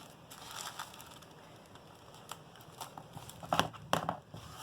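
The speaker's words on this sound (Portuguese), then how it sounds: "Cortamos o que sobrou do zíper" Scissors snip through leftover zipper fabric close by during a sewing session for a fabric coin purse, a series of quiet crisp crunching cuts that grows into several louder snips near the end.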